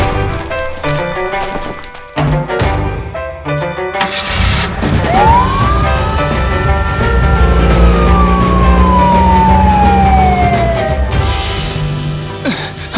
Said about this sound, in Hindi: अगर हम सायरन यूज करें सब रास्ते से हट जाएंगे, सही है ना?